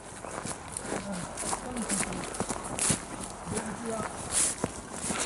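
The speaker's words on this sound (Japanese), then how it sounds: "でもなんか足音近づいてきてた感があるのがすごいな。" Footsteps crunch and approach through a forest at night at a reputedly haunted spot in Shiga, Japan: uneven steps and rustles at moderate distance, with low voices murmuring under a steady background hiss.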